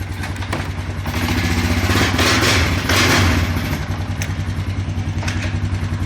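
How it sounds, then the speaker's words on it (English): A Honda Foreman 450 ATV with its exhaust baffle and spark arrestor rotted out revs loudly up close, a raw, rumbling engine that swells in pitch and drops back while idling unevenly between blips. "this one has no baffle or has no baffle or spark arrestor because it has kind of rotted out"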